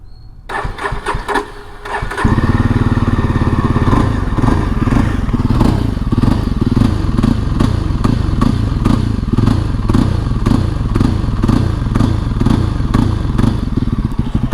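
A Yezdi Adventure motorcycle engine starts with a clatter, then settles into a loud, loping, punchy idle with a steady rhythmic exhaust beat close by.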